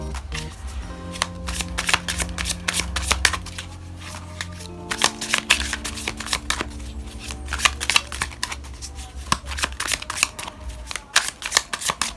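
Tarot cards being shuffled by hand at close range, steady riffling and flicking bursts running throughout, with soft low music underneath and no talking.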